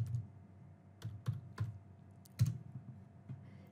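Sparse, crisp keystrokes on a computer keyboard, about half a dozen separate taps spread over a few seconds, as a short bot command is typed in Telegram in a quiet room.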